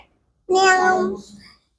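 A voice imitates a cat with a single drawn-out meow, loud and close, followed by silence.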